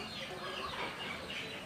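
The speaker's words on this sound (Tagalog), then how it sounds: "may manok sa taas" Chickens cluck softly on a small backyard mini farm, a faint steady flock murmur under outdoor ambience with no close calls standing out.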